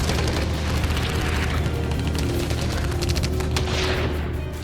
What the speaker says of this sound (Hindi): रूसी सेना खार्किव में यूक्रेनी सैन्य ठिकानों पर जबरदस्त बमबारी कर रही है।